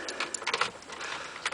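A pair of keys for a 1999 Range Rover Autobiography P38 with a 4.6-litre V8 jingles and clinks in several quick close rattles, with no talk.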